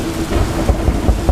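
Heavy rain with low rumbling thunder on a stormy night, a dense steady downpour with deep booming swells recurring through the short stretch, loud and close with no voices.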